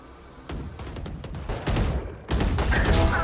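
Sharp gunshots crack out in a Valorant esports match, several spaced single shots building to a louder, denser burst of fire toward the end, with no talk over them.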